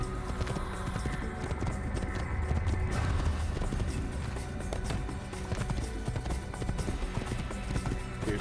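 Steady galloping horse hoofbeats clatter continuously over a dense Assassin's Creed game soundtrack, the rhythm unbroken for the whole stretch.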